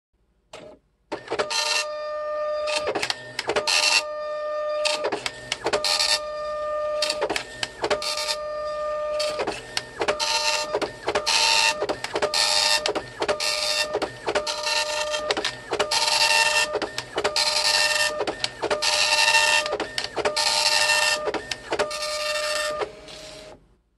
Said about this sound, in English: I printed off several more test pages, and I'm happy to say that everything turned out pretty well, especially for a printer that's this old.